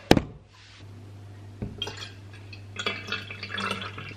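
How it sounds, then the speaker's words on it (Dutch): Banana water is poured into a watering can, a sharp knock followed by dripping and splashing liquid in short bursts, fairly close and alone. "Dus dan schenk je dat in de gieter."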